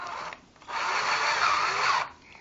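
A power drill drives screws into a homemade three-flame candle heater and oil burner, producing one close, loud whirring burst of about a second and a half between quieter pauses.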